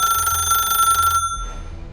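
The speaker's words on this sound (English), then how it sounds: "my phone started ringing." A phone gives a loud electronic ring for about a second before it cuts off, followed by a low thump and quiet room tone.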